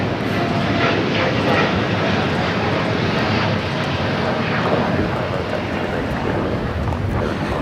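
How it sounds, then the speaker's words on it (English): A United Airlines Boeing 787-9 Dreamliner takes off from Los Angeles LAX, its jet engines giving a loud, steady, broadband roar that holds throughout with no break. "This is United Airlines 231 taking off to London Heathrow on the 787-9 Dreamliner."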